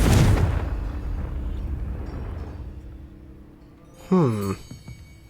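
A Confringo blasting-curse explosion in the Hogwarts Legacy video game bursts loudly at the start, then rumbles and decays over several seconds before a brief voiced sound breaks in near the end.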